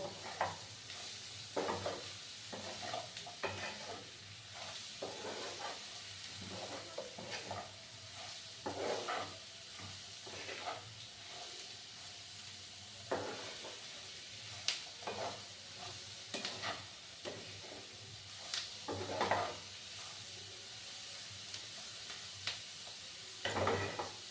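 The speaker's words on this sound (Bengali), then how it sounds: "এইভাবে আমি পাঁচ মিনিটের মতো একটু ভাজা ভাজা করে নেব" Bottle gourd peel frying in a pan while being stirred, a soft continuous sizzle broken by quiet, irregular scraping strokes, fairly faint and without speech.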